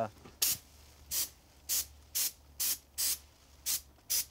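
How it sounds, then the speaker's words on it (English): Short repeated bursts of compressed air blown from an air compressor nozzle over brassica seed to clear away the last chaff, eight hissing blasts in an even rhythm, close and fairly loud, with no talking. "sometimes I'll use just an air compressor to blow out the last little bit of"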